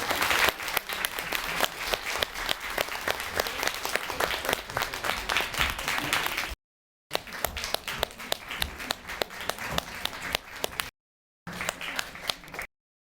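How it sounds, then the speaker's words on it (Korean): An audience at a sold-out Korean film talk event applauds to welcome guests onstage, a dense run of clapping sustained for several seconds, broken by two short silent gaps before resuming. "큰 박수로 맞이해 주십시오."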